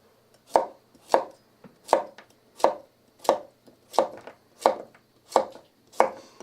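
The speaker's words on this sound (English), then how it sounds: "We've got a pickling cucumber here that we're just going to simply slice into some rounds." A pickling cucumber sliced into rounds with a knife on a cutting board: nine evenly spaced, crisp chopping knocks in a steady rhythm, close and clear with no talking.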